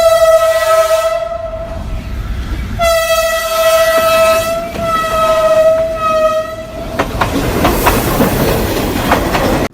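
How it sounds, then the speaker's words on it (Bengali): A green toy train engine running, with loud sustained electronic horn tones sounding three times, then a busy rattling clatter, close and with no talking. "তো এরপর আমরা দেখব একটি টয় ট্রেন ইঞ্জিন"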